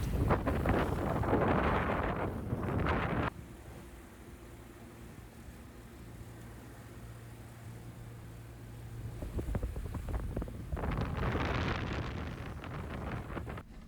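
Wind gusting past the microphone aboard a sailboat in about 20 knots, with heavy buffeting at the start and end and a quieter middle where a low steady drone, probably engine or hull noise, runs underneath.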